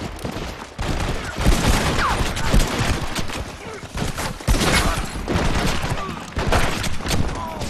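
Video game gunfire crackles through a gang showdown in dense, overlapping volleys of shots and booms that keep coming almost without pause, loud and chaotic throughout.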